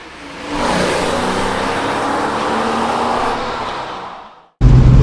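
A Porsche Boxster mid-engine sports car drives by, its engine note swelling into a loud, sustained rush of engine and road noise that fades before a sudden cut to another loud burst.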